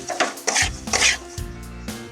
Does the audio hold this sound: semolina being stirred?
yes